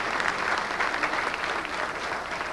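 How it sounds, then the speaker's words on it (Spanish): An audience at a Catholic preaching event claps, a dense sustained round of applause from many hands without a break. "Gracias le damos al hermano que nos ayudó y le damos un aplauso también."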